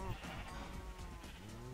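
Minecraft sheep bleat in short wavering calls beside a voice talking, the animal sounds sitting beneath the speech over less than two seconds.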